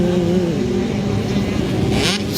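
Small 65cc motocross bikes racing in a 9-11 age class at a Lakes round, their engines a steady, fairly close buzzing drone with slight revving pitch changes, held throughout without pause.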